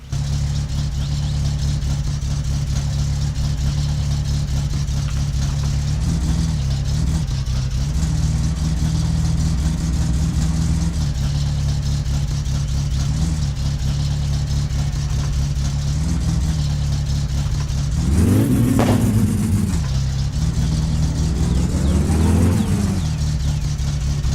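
In the game My Summer Car, a car engine runs steadily while driving, a loud, close, low drone with small pitch shifts and two sharp revving surges near the end.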